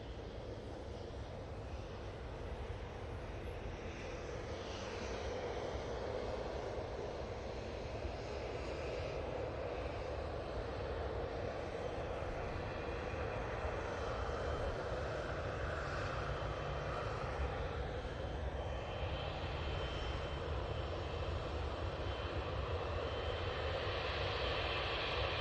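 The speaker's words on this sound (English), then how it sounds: "Emirates making its way on to the runway." An Emirates airliner taxis onto the runway at Manchester Airport, its engines giving a steady, loud, continuous roar that holds throughout with no talk.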